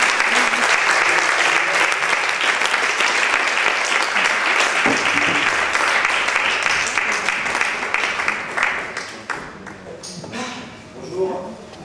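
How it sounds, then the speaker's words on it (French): Loud, sustained audience clapping welcomes a comedian onto the stage at a café-theatre show, dense at first and then thinning out toward the end. "On l'applaudit très fort."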